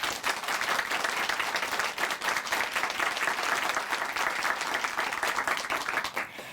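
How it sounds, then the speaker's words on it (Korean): Studio audience applause for a guest's testimony on a Korean Christian TV program, loud, steady, dense clapping from a crowd that sustains throughout and tapers slightly at the end. "다시 한번 박수 보내드릴게요."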